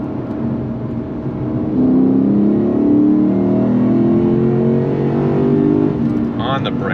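A Lexus RC F Track Edition V8 pulls under acceleration from inside the cabin, the engine note rising smoothly and staying prominent, with a faint whir toward the end.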